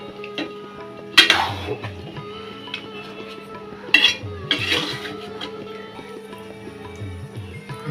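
A spoon clanks and scrapes against a metal pot while fish head curry with potatoes and beans is stirred, a few sharp knocks standing out over a quiet low simmer.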